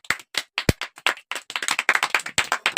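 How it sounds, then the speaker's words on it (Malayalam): Hand clapping from a small group during a logo guessing game: sharp, close, separate claps in an uneven rhythm, with a few quick bursts and short gaps between them. "അപ്പൊ നമ്മൾ അവരെ ക്ലാപ്പ് കൊടുക്കാം."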